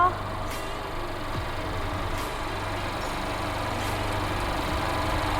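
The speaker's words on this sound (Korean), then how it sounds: "엔진 소리 일정하네요." A Mercedes-Benz CLA220 AMG Line (C117) engine idles with a steady low hum and even rumble, unchanging throughout, heard fairly close.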